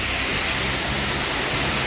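Steady broadband rush of water at Karlaan waterfall near Abbottabad, Pakistan, with water dripping and trickling from a rocky passage, a loud continuous wash close by with no voices.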